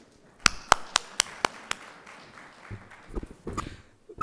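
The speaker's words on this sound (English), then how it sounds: "So please applaud yourselves because we are survivors." An audience at a talk for realtors and estate professionals claps: a run of about six sharp, evenly spaced claps, then scattered, softer clapping and shuffling.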